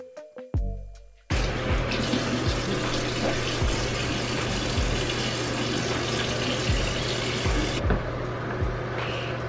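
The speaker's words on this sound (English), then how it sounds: "Make sure that you rinse your brush top off." Water from a tap runs steadily as a face brush is rinsed beneath it, a hissing stream starting after a few light knocks and cutting off near the end.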